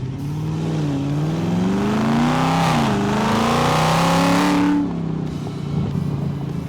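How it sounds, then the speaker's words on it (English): A Dodge Demon running straight-pipe exhaust revs up, its loud, raspy engine note climbing and wavering through several seconds of throttle before cutting off abruptly, with a quieter idle rumble afterward. "it's a little rowdier, obviously, with it going straight pipes"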